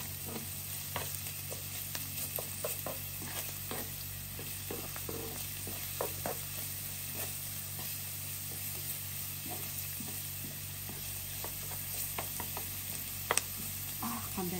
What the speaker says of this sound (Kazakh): Енді осы қуырып атқан жуамыздың үстіне сарымсағымызды салып аламыз.